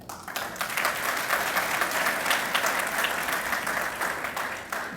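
Dense, steady applause from a large audience at a Pashayi gathering, with continuous clapping and some cheering that stays loud and even throughout and fills the hall.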